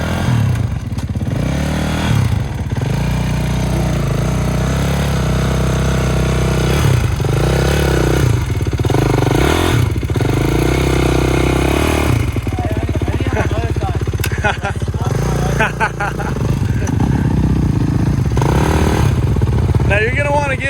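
A dirt bike engine runs loud and close throughout, idling and revving up and down in surges while people talk over it.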